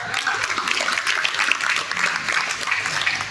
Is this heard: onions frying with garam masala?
no